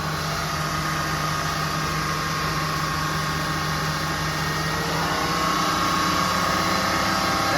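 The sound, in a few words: engine revving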